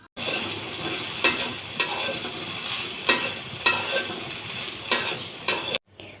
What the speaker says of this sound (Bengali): তারপর পরিমাণ মতো হলুদ লবণ দিয়ে এটাকেও খানিকক্ষণ লাল লাল করে ভেজে নেব।